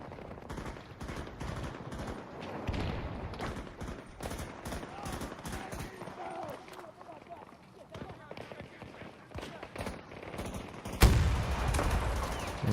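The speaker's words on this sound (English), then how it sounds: "I'm gonna shoot you again." Rapid bursts of video game gunfire, with automatic fire and single shots repeating over about twelve seconds. A louder, denser burst comes near the end, with someone talking over the shooting.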